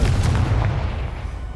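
A Confringo explosive spell blast from Hogwarts Legacy goes off as a short, loud booming burst that rolls and fades away quickly.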